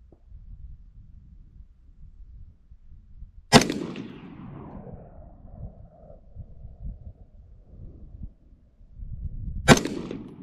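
Two sharp rifle shots from an M4A1-style carbine during test firing at a range, spaced several seconds apart, each a loud close crack with a short decaying tail, over quiet background rustle.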